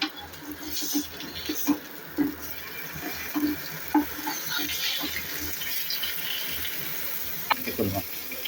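Fish frying in a pan sizzles and crackles continuously while being flipped, with a series of soft knocks and scrapes of the utensil recurring every second or so, close and moderately quiet.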